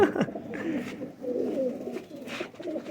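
Golden Kasuri pigeons coo softly nearby in low, throaty, rolling calls that repeat over faint background noise.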